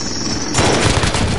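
Call of Duty Warzone gunfire, a sudden loud burst of rapid shots cutting in after a quieter moment and continuing as a close, dense volley.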